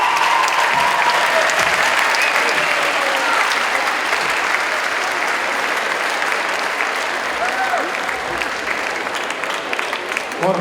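A school charity concert audience gives a long, loud, dense round of applause that stays strong and unbroken, with voices and cheers mixed into the clapping.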